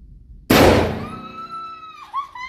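One sharp, loud report from a machine gun at a shooting range, a single close blast with a ringing tail, followed by a short voice afterward.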